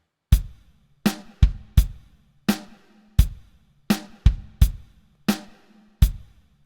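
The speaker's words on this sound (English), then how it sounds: "number 1 is a bass drum, a snare drum, and a hi-hat." A simple drum beat from a Drumport Laser Stomp drum pedal played alone at a moderate, steady pace: deep bass drum thumps mixed with snare hits and crisp hi-hat accents, each ringing briefly.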